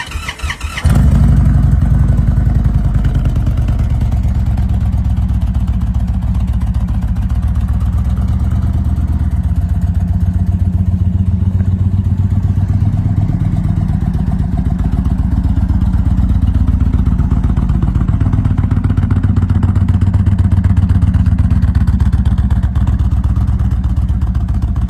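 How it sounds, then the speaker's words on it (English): A 2023 Indian Chieftain Dark Horse bagger motorcycle idles loudly and steadily up close, its deep engine rumble continuous with slight rises in pitch, no talking. "This 2023 Indian Chieftain Dark Horse is a top-of-the-line bagger with a sleek, blacked-out style and a powerful engine."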